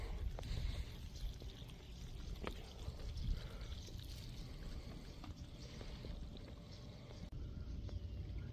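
Water drains steadily from an emptying fish tank in a continuous soft rush and trickle, quiet and unbroken, with no talking.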